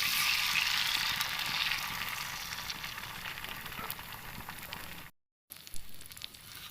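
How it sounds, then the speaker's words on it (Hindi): Beaten eggs frying on an oiled hot tawa over a medium flame: a broad, hissing sizzle loudest at the start and slowly easing, then a brief silent gap before it resumes. "अब हम फेंटे हुए जो अंडे हैं उनको तवे के ऊपर डाल देंगे।"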